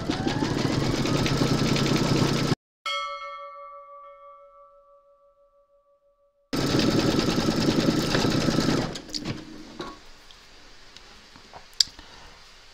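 An embroidery machine stitches an applique design of Mrs Claus, a steady rapid mechanical chatter near and loud, interrupted by a sudden gap with a fading tone before the busy stitching resumes and then thins into scattered clicks.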